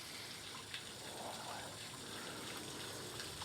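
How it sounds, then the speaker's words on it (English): Water gushing steadily out of an RV holding tank during dumping, a continuous rushing flow heard at a fairly low level without any speech. "it does help with that water to flow out a little bit faster than it would without those vents on there"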